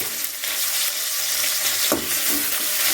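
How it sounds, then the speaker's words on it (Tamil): Flowers sauté in hot oil with salt for a vegetarian Chettinad kuzhambu, a loud continuous sizzle broken by a couple of stirring knocks near the pan, with nobody speaking. "சும்மா ஒரு ரெண்டு செகண்டு அந்த எண்ணெய்க்குள்ளே அந்த பூ வதங்கணும்"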